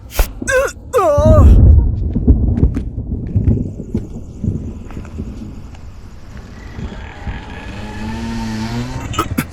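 A car speeds past with tires squealing and the engine revving, loud and close, amid dramatic movie sound effects, while voices shout over it.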